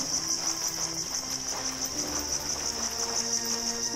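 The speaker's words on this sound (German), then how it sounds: "Ah, wenn die Grillen sind, müsste Sommer sein" Crickets chirp in a summery outdoor scene in the video game Yonder: The Cloud Catcher Chronicles, a constant high shrill trill running throughout over soft, low background game music.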